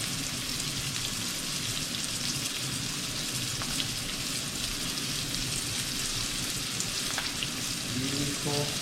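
A floured, egg-washed deer heart fries in hot oil, giving a steady, even sizzle and crackle that holds at moderate volume throughout with no talking.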